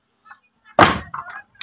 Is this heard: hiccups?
no